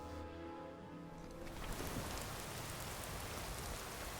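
Heavy rain falls in Skyrim with weather mods installed, a loud, constant hiss of downpour that swells in after a tonal musical opening and then continues steadily on its own.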